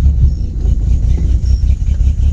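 A Datsun car with a freshly installed wheel bearing creeping forward and backward, heard as a loud, low, steady engine rumble close by.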